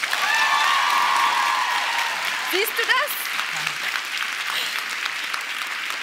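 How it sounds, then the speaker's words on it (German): An audience at a live book show applauds in a steady wash of clapping that runs the whole time, while a person speaks briefly partway through. "Bitte einmal klatschen."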